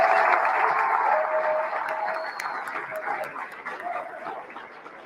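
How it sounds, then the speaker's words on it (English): An audience at a ceremony applauds, a dense wash of clapping that starts full and gradually thins and fades over a few seconds, with a faint voice briefly audible. "let's give a big round of applause to the amazing staff of Centro Hispano who made it possible for us to be here today"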